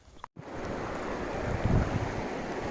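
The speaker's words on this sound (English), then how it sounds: "finally we are fording this Ladya river" Vehicle fording the Ladya river in the Kumaon hills, a steady rushing wash of flowing water and wind noise after a brief dropout, loud and continuous with no talk.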